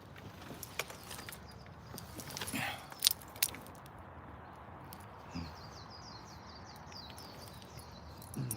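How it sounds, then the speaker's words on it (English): Birds chirp in a park, a few thin high calls scattered over steady outdoor background noise, with brief bursts of nearby rustling and a short run of repeated chirps late on; fairly faint and moderately distant. "Hear the beautiful birds chirping."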